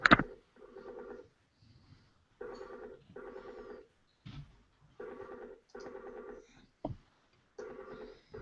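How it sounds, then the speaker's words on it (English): A phone rings in repeated double bursts with short pauses between, moderately faint, with a few sharp knocks and clicks nearby. "Can you guys hear that ringing?"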